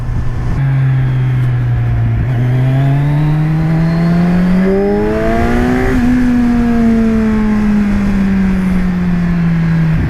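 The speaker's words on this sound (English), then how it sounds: "This thing did have an aftermarket exhaust on it." A 2017 Kawasaki Z1000 motorcycle engine revs hard and loud, its pitch climbing through the gears, then easing off and holding steady, with a raspy aftermarket exhaust.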